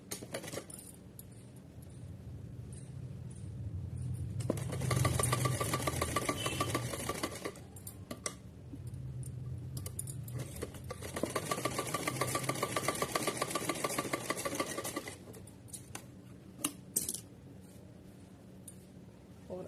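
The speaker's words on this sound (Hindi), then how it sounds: "ऐसे रख के सीधी सिलाई करनी है इस पर" A sewing machine stitches fabric for a heavy Kanha dress (choli) at home, running in two sustained bursts of rapid stitching separated by quiet pauses, close and moderately loud with light clinks and no talk.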